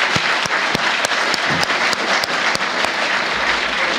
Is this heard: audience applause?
yes